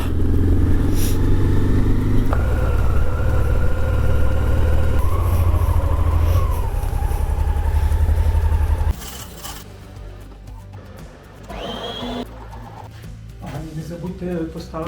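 Motorcycle engine runs loudly and steadily while riding, a close droning hum that cuts off about two thirds of the way through, leaving quieter ambient noise.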